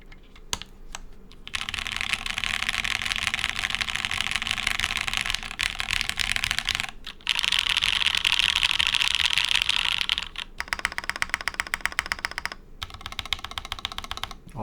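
Someone types quickly and steadily on a rattly Type-K prototype mechanical keyboard built without foam. The keys clack loud and close in dense bursts, split by short pauses.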